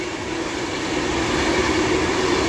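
An Avanti West Coast Class 390 Pendolino express passes at speed through a station on the West Coast Main Line, a loud sustained roar of wheels and rails with a steady tonal hum, no voices.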